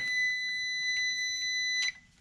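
A multimeter's continuity buzzer holds a steady, high electronic tone without a break while testing a car AC clutch, with faint clicks under it, then cuts off abruptly near the end.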